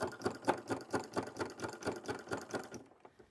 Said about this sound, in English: at like 1/4 inch, just sew a straight stitch right across to get those handles to stay put